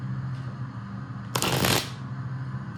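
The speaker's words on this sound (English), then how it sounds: "I think that is enough shuffling." Tarot cards are shuffled by hand in one quick, close riffle lasting about half a second, standing out mid-clip against a quiet, steady background hum.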